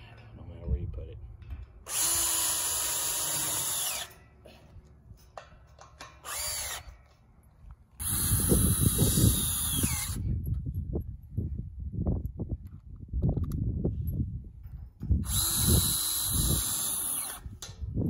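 A power drill whines in several loud bursts, starting and stopping, with clattering and handling noises between runs, while building a cattle corral.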